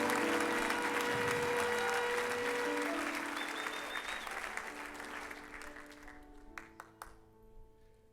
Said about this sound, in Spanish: Alguien tiene que aplaudir